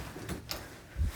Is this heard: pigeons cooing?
no